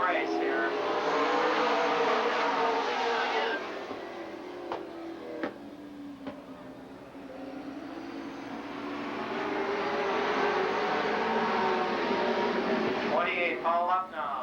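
Super late model race cars at Lake Geneva Raceway, Wisconsin, their engines roaring past in a loud, sustained drone that dips and swells as the field circles, with an announcer calling the race over it.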